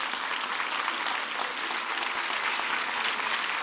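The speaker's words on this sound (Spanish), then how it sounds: "Un aplauso al secretario de Obras que la construyó" Audience at a public works inauguration in Querétaro clapping continuously, a dense even applause throughout.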